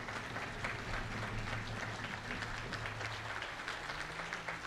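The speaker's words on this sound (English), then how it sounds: "Can we give them another round of applause?" An audience at an armed forces salute concert applauds guest opera artists, a fairly quiet, continuous patter of clapping with a low steady hum running beneath it.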